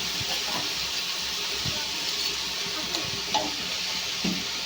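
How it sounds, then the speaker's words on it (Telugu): Brinjal curry with turmeric fries in a pan, giving a steady close hiss and sizzle with faint stirring scrapes underneath and no voices. "అయితే ఇలా పసుపు వేసుకుని ఫ్రై చేసుకోవాలండి"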